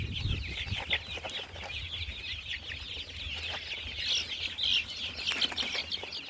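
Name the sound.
desi Gavrani Aseel chickens clucking, parent stock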